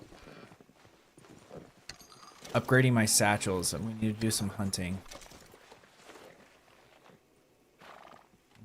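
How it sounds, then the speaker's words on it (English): A horse in Red Dead Redemption 2 lets out a loud, prolonged whinny lasting a couple of seconds amid soft hoof clip-clops, while a player talks over the quieter stretches before and after. "Why is my horse freaking out?"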